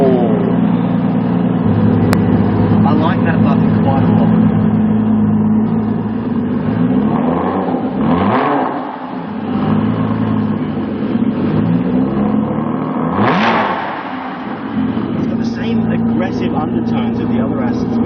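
An Aston Martin V12 Zagato engine starting and revving, a deep steady idle broken by two strong throttle blips that rise and fall, heard under a voice that talks through much of it.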